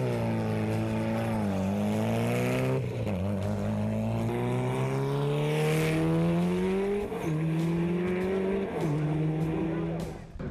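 A 2003 Mitsubishi Evolution 8 rally car with a 2.3-liter cast-iron-block inline four making close to 300 horsepower, racing the Pikes Peak hill climb: a loud, close engine climbs in pitch through several gears, with sharp drops at each shift.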